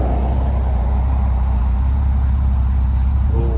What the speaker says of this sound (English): SL coming off the back of our truck from Ireland now.